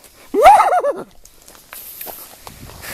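A single voiced whinny imitation, wavering up and down for about half a second, loud and close, followed by quieter background rustling.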